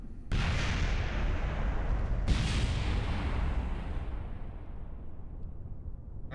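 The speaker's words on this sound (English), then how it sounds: "whatever part you set to go kaboom goes kaboom" A part blows up in the Kerbal Space Program video game. A sharp boom hits, a second blast follows about two seconds later, and then a long rumbling roar slowly fades, with no talking.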